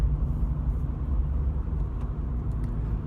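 A car driving on the road, a steady low engine rumble with road noise, close and continuous, with no clear gear change audible and no talk.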